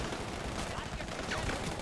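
Rapid gunshots in GTA V Online crackle in a dense, continuous burst at moderate volume, mixed with voices talking over the shooting.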